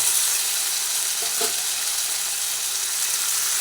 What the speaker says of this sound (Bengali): হলুদ গুঁড়ো দিয়ে আলুটাকে ভেজে নিচ্ছি